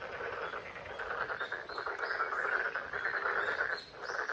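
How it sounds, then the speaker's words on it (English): Frogs croak steadily in a dense chorus after a long spell of spring rain in South Korea, a continuous layered calling that stays fairly loud and close throughout, with no talking. "The local frog population is happy."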